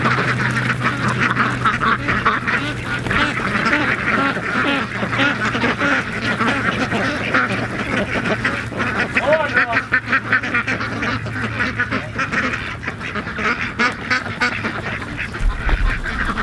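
A laying flock of ducks quacks continuously and loudly close by in a farm setting, a dense overlapping chorus, with people talking underneath.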